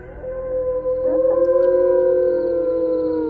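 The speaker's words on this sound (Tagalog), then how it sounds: "napabalikwas naman ako ng bangon nang marinig ko ang malakas na alulong ng aso" A dog howls loudly at night, one long sustained wavering howl with a rising bend partway through, close and clear over faint insect-like background hiss.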